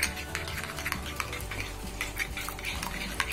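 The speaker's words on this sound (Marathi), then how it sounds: "मी आपण तर हे छान पेटून घेतोय।" A spoon stirs and scrapes through yogurt mixed with coriander, red chilli powder, salt and garam masala in a bowl, giving a continuous wet clatter and shuffle close by.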